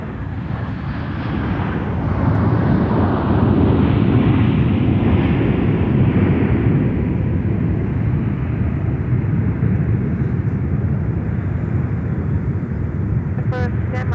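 A jet airliner on a seven-hour flight from Dublin glides in to land, a loud, steady broadband roar sustained throughout with wind buffeting the microphone.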